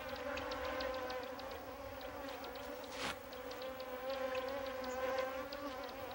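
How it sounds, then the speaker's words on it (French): Bees swarm and harass hyenas in the African wild, giving a steady, faint buzzing drone of many insects throughout, with one brief rustling burst in the middle. "Les hyènes, comme les lions, sont sans défense contre le harcèlement des abeilles."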